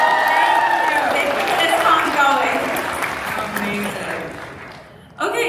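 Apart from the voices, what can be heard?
convention audience applause and cheering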